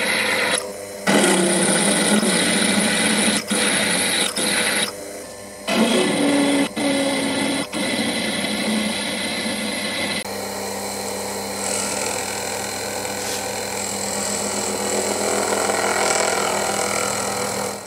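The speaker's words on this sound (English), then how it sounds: "Twist drills can remove most of the material more easily than milling" Twist drills bore through metal while a toolmaker's vice stop is being made, a steady loud machining whir with several brief pauses and restarts in the first half, then one continuous drone to the end.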